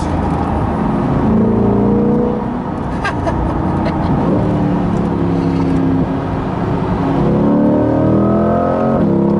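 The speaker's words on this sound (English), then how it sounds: "Super quick shifting on full throttle." A 2020 Corvette Stingray Z51 accelerates at full throttle with rapid upshifts, its engine note climbing in repeated rising sweeps that cut briefly at each quick gear change, loud and close inside the cabin throughout.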